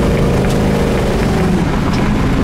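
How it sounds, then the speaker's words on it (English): A 1969 Chevrolet Camaro rumbles while driving, its engine and exhaust a loud, dense low roar with wind and road noise blended in, no talking. "Exhaust sounds great."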